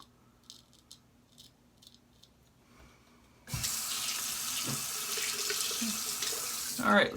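Tap water gushes into a sink for rinsing after a shave, starting abruptly after a few faint clicks and small handling sounds, then running steadily and close at moderate loudness with a brief splashy swell near the end.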